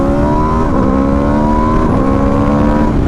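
A 2021 Aprilia RSV4 motorcycle engine drones loud and close throughout a test ride, its steady harmonic tone shifting pitch slightly as the revs change.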